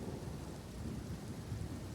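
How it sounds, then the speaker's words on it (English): Crackling, rumbling lightning from a charged arrow skill in Path of Exile 2 that chains lightning beams between enemies, heard as a steady, dense electrical roar lasting throughout with no pauses. "On hitting enemy or wall, the arrow will fire chaining lightning beams at enemies."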